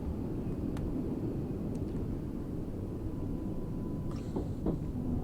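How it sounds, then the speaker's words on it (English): A Class 484 electric train on the Island Line in Train Sim World 3 gives a steady, fairly loud running rumble with a faint whine, plus a few short clicks and squeaks near the end. "I think quite a lot of the sounds used on this train were actually then used for the Class 385."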